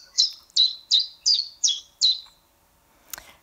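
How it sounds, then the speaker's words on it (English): Zebra finch calls, a recorded stretch followed by an AI-generated continuation: six bright, evenly spaced chirps in a quick regular rhythm, then a pause and one short sharp click, with no voices. "The first part of this, before the line, is recorded from the zebra finches. The second part is generated by the AI that we have developed."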